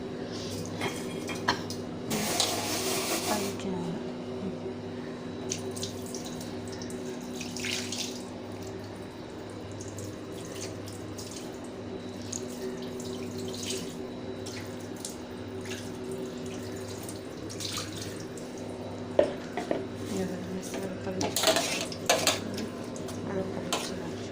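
Dishes washed in a sink under steady running tap water, with clattering of utensils and occasional louder splashes and clinks throughout.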